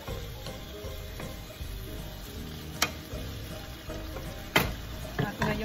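Chicken curry is stirred in a pot to mix in fish sauce (patis), giving a steady sizzle with scattered scraping and clinking spoon strikes throughout, and no speech.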